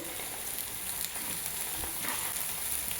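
Chopped onion hits hot oil in a pan while veg biryani is being cooked, giving a steady close sizzling hiss with faint crackles throughout, no voices.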